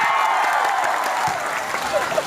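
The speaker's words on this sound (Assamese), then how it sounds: "যদি শিকে সকলোৱে এবাৰ হাত তালি মাৰক" Audience applauding at a Zubeen Garg event at Rangia College, a brief dense burst of clapping from a large crowd, steady and loud throughout.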